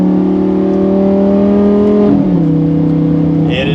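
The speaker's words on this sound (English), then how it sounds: "You get to hear that engine all the time." A loud performance car engine drones steadily with a strong, rich tone while driving, then its pitch drops sharply partway through as if shifting gear, continuing near and prominent throughout.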